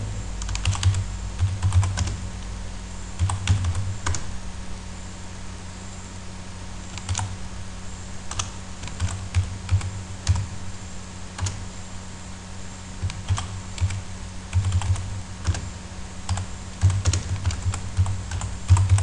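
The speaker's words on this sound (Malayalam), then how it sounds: "Taste the real taste of nature എന്ന് ടൈപ്പ് ചെയ്യുക." Steady clicking of a computer keyboard being typed on, a continuous run of keystrokes at an even pace through the whole stretch, fairly close, with no talking.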